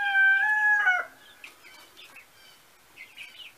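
Chickens in a yard give one drawn-out, fairly loud call, followed by fainter, scattered chirps and peeps from the flock.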